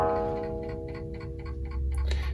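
An old, fragile antique wooden clock ticks steadily in a quiet room, its evenly spaced ticks clear and close.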